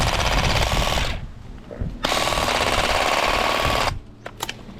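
Ingco cordless garden shears prune small twigs: two loud, close buzzing motor runs with a short pause between, followed by quiet rustling and clicks after the motor stops.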